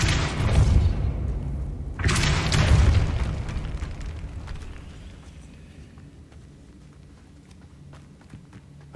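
Depulso spells cast in Hogwarts Legacy land as two heavy, booming bursts about two seconds apart, each rolling off into a fading rumble, followed by quieter scattered clicks and footsteps.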